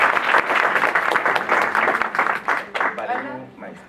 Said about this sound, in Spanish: Así que por favor lo recibimos con un fuerte aplauso.